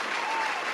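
A short burst of dense applause, like a recorded crowd clapping, heard steady and uninterrupted for under a second on a podcast.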